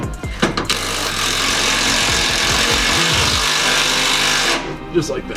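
A power tool running bolts in and out of the fender braces on a Dodge Neon SRT4, a loud continuous buzzing whir with shifting pitch, briefly under a voice at the start and end.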